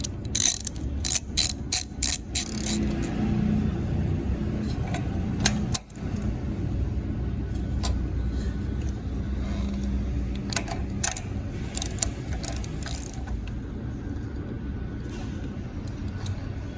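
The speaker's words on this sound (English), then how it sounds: "And we're just going to hand tighten these mounting nuts." A ratchet tightening the carburetor mounting nuts on a Kawasaki FS600 engine, with rapid close clicking bursts early on, then sparse clicks over a low steady background hum.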